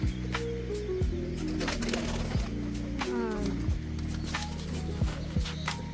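A flock of pigeons coos steadily nearby, overlapping low, throaty calls filling the whole stretch, with a human voice mixed in at times.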